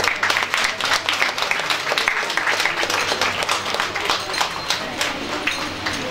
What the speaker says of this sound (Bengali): একটু জোরে হাততালি হয়ে যায়